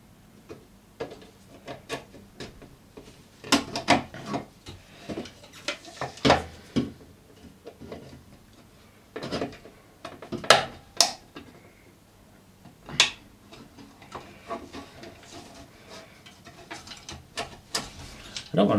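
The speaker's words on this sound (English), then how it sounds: "I'm going to try and pry this apart so we can get inside and have a look." Scattered clicks, snaps and scrapes of pry tools working apart the plastic case of a cheap wifi antenna, close and fairly quiet, in irregular bursts with pauses between.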